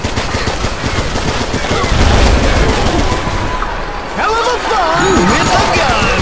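SCAR and minigun fire in the Dead Trigger 2 arena, with dense, loud bursts of rapid shots running continuously under an excited voice.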